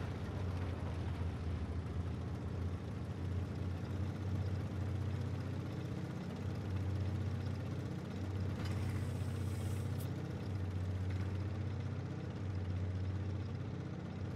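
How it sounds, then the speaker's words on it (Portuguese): A noisy tank engine idles in a video game, giving a continuous low, droning rumble with a steady hum that holds evenly through the whole stretch. A faint higher hiss drifts in briefly near the middle, and no voices are heard. "Tem um tanque que tá com motor barulhento, né?"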